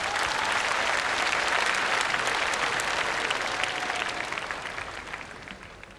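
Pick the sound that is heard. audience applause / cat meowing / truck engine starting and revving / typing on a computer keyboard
audience applause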